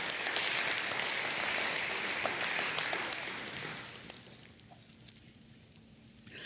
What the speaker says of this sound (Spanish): Si le va a aplaudir, hágalo fuerte y hágalo para Él.